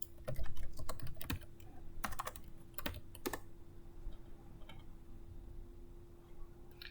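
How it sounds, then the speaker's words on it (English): Fingers tap on a computer keyboard in quick clusters of close, crisp keystrokes for the first few seconds, then the typing thins out to occasional soft clicks over a quiet room, with no talk. "So just type in the word tag sale,"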